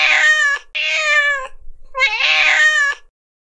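A cat gives three loud, close meows in quick succession, each drawn out and wavering, with brief gaps between them and nothing else around.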